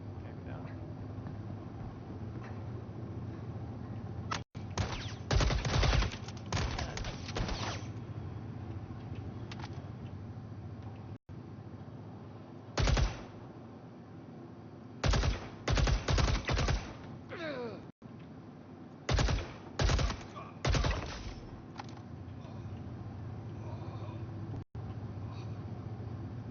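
Gunfire in the video game Star Citizen: repeated bursts of rapid automatic fire, some short and some several seconds long, over a constant engine-like hum, with people talking over voice chat.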